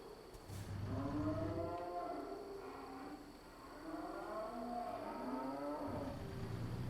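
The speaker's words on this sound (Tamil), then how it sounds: "மாடு கத்துற மாதிரி சவுண்டு கேட்குது." Cattle in a livestock trailer in American Truck Simulator moo in long, drawn-out calls, two main bellows over a steady engine hum and a faint high whine, with no talk.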